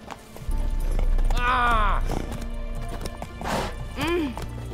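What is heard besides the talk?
horse Roach's hooves clip-clopping, from video game The Witcher 3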